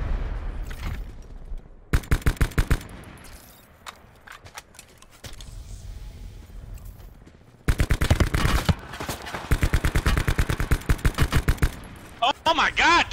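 Video-game gunfire in a battle-royale match: bursts of rapid automatic shots come in several clusters, some loud and close, others quieter and distant, with pauses of quieter ambience between the volleys.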